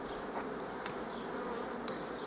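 Honeybees buzz at an open hive in a spring apiary, a steady dense drone of many insects, close and continuous with no talking.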